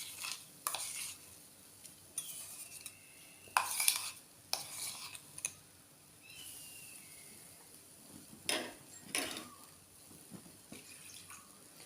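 Grated coconut paste is added and stirred into a clay pot for netholi peera curry, giving scattered scraping and clinking knocks of a spoon against the pot, with quiet gaps between them.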